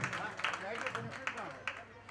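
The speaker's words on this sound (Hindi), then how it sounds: "एक बार जोरदार तालियों से इनका स्वागत" Crowd applause welcoming a guest at an Agrawal community gathering, scattered fairly faint clapping with sharper individual claps, partly under a speaking voice.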